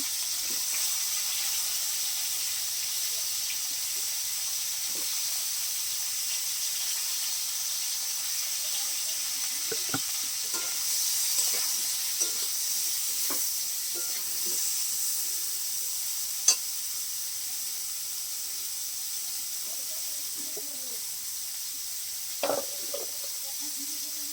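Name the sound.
frying in oil, sizzling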